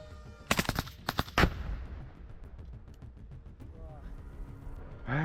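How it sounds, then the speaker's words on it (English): Russian soldiers shoot small arms at incoming FPV drones: a few sharp, loud shots in quick succession, then a quieter rumbling stretch with faint background activity. "Russian soldiers are destroying enemy FPV UAVs approaching at maximum speed with accurate small arms fire."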